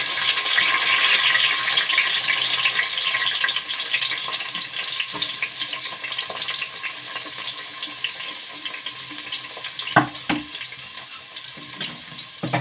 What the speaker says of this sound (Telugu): దీంట్లో ఇప్పుడు నేను 2 ఆనియన్స్ను పచ్చిమిర్చి కట్ చేసి వేస్తున్నాను